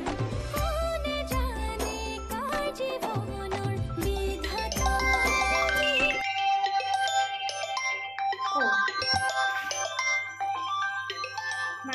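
A mobile phone ringtone plays loud and continuous, a bright melodic tune with chiming notes that keeps repeating until the call is answered in a home.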